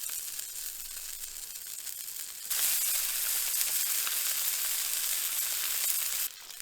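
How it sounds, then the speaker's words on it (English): Hamburger patties sizzling on a Coleman propane camp stove outdoors, a steady close hiss that jumps louder partway through and stays strong until it drops near the end, with no talking. "we're gonna see if it'll cook up some hamburgers"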